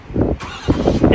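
A Versalift VST-55-HDI truck engine is restarted after being stopped, cranking and catching in a couple of close, loud low bursts that settle toward idle.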